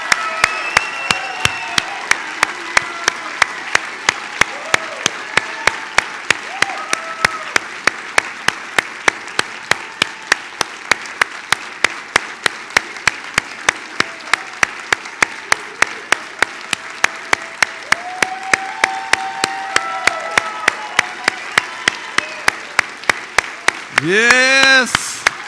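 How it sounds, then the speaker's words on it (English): A church congregation on Easter Sunday gives a standing ovation, with sustained loud applause and scattered cheers filling the room for about 25 seconds. "Can we just stand up and give Jesus a big standing ovation?"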